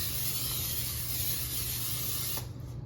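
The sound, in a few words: cooking spray sprayed into a pan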